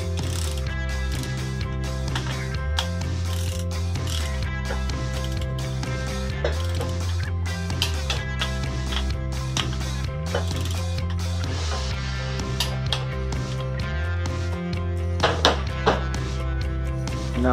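A ratchet wrench clicks repeatedly while retorquing connecting rod bolts on a Mopar 5.9L Magnum engine, in close, rhythmic bursts of ratcheting strokes with brief pauses between them.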